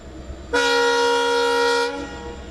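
The Vasco da Gama–Secunderabad express train sounds a single long, steady horn blast of about one and a half seconds. It is loud and close and ends abruptly, with a faint running rumble around it.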